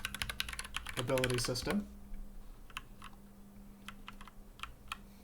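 Keys tapped on a computer keyboard to enter a console command in an Unreal Engine 4 game, a flurry of clicks under a brief spoken phrase, then sparse isolated taps.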